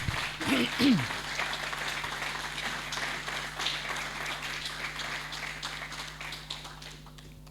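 A church congregation gives a sustained round of applause, with a soft, even wash of many hands clapping. A voice sounds briefly at the start, and the clapping fades gradually toward the end.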